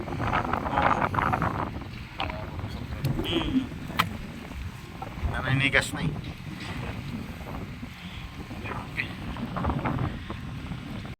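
Wind blows hard and steadily across the microphone outdoors, with water and boat noise beneath and someone speaking briefly.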